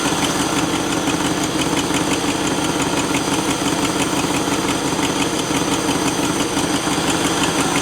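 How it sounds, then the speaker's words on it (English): A Land Rover NATO 110 V8 engine idles at about 700 RPM, a loud, steady, close rumble with an even pulsing throb and no talk. "let's check the RPM now on idle."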